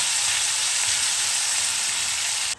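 Prawns frying in hot oil give a loud, dense, steady sizzle close by, with no talking, cutting off abruptly at the end.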